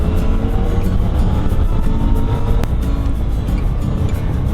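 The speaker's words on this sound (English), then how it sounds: "This is a very busy road right here." Steady, loud road noise from inside a car travelling along a busy road near Navarre Beach and Gulf Breeze, Florida, with a continuous engine and tyre rumble throughout.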